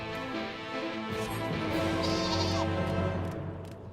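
Sheep bleating in the Final Fantasy XIV online game, a loud, sustained wavering bleat heard alone over a layered musical background.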